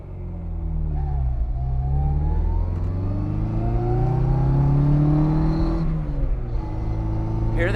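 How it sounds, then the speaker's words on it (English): A 1963 Austin Mini Cooper's straight-cut gearbox whines while driving. Rising and falling gear tones sweep up as the car accelerates through the gears over a close, loud engine drone. "listen to when I put it in second. You're going to hear that straight cut gearbox"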